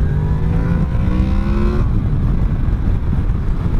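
A 2017 Honda VFR 800 motorcycle engine revs upward under a short burst of throttle, its pitch climbing for nearly two seconds before the note drops away into a rougher, lower rumble; loud, close, with no talk.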